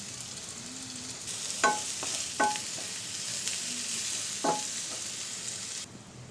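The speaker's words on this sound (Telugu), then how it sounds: "మళ్ళీ కొంచెం ఆయిల్ వేసుకొని కొన్ని ఉల్లిపాయలు వేసుకొని దూరగా వేయించుకోవాలి" Onions frying in oil in a pan for egg bhurji gravy, a steady soft sizzle throughout with a few sharp clinks of a spoon stirring against the pan.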